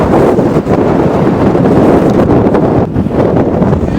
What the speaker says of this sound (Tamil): பயங்கர காத்து. பயங்கர காத்து.